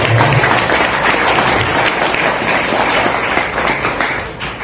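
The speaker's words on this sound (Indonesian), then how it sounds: "Tepuk tangan." Audience clapping at an Indonesian Independence Day anniversary gathering, a dense even patter of many hands that holds steady and tapers slightly at the end.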